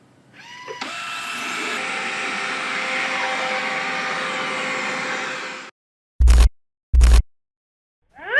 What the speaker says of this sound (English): Yep, the Xiaomi Mi Robot Vacuum Mop Pro is finally here